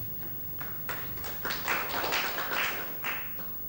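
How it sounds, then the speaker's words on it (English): A snooker audience at the 1995 Thailand Open final claps after a shot: a thin spatter of hand claps that swells into a few louder bursts before tapering off, with no talk over it. "I wonder if they'll clap that one."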